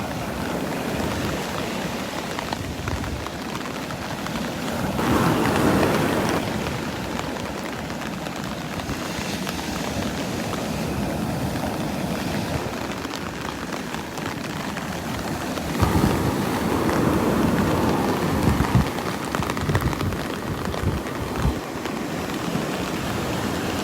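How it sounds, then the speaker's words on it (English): Steady rain and surf wash over Vanderbilt Beach, a broad continuous hiss of rainfall layered with the rolling roar of waves, swelling louder around a few surges, with no voices. "I don't know if you could hear them over the rain and waves."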